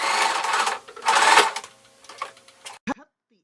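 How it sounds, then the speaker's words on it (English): Sewing machine stitching ribbons onto a fabric rehearsal cape, running in two loud bursts of rapid stitching with quieter pauses and a final short run at the end. "Sew the ribbons in place as pinned by hand or machine."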